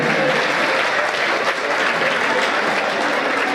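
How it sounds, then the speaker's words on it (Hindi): Steady applause from spectators at a one-day village kabaddi match fills all 3.6 seconds, a dense even wash of clapping with no voices. "जोरदार तालियों से एक बार सम्मान दीजिएगा, दर्शकों से निवेदन है"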